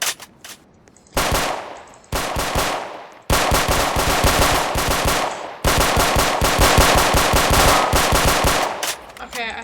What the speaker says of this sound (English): Oh no, the bullets are going out.